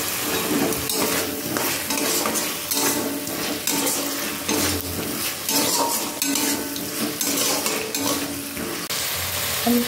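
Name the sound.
sautéing boiled potatoes in cooked spice paste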